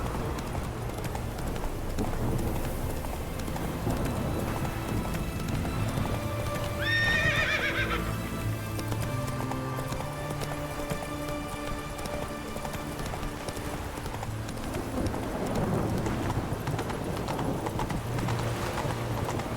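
Roach the horse galloping in The Witcher video game, steady clip-clop hoofbeats running throughout with a whinny midway, fairly close and loud, along with game ambience.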